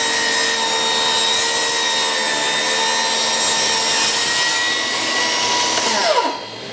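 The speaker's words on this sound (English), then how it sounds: "we're just going to rip a 1/2 inch off of this right here, some 3/4 inch pine" Milwaukee M18 Fuel cordless table saw ripping a strip from 3/4 inch pine, a steady loud whine from close range that drops in pitch as the blade spins down at the end, with no talk.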